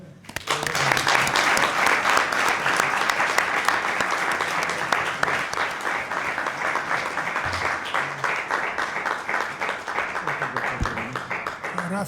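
Bullfighting fans gathered at a casino event break into strong, continuous rhythmic applause that swells quickly and holds steady for several seconds, with a few voices mixed in.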